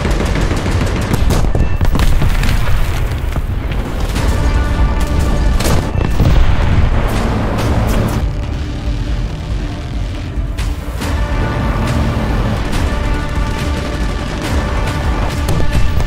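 Anti-aircraft guns fire in dense, loud bursts alongside booming bomb explosions in War Thunder, with rapid continuous gunfire and heavy blasts layered over each other throughout.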